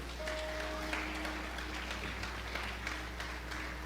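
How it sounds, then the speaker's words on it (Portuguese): A church congregation claps and applauds together in a steady, moderate wash of sound, heard somewhat distant over a constant low hum, without speech. "Aplauda Jesus."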